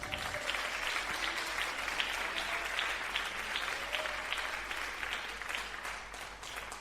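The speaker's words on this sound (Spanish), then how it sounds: "¿Quién da un aplauso al Señor?" A church congregation claps steadily in a dense, sustained round of applause at a Spanish-language healing service, with no talk over it.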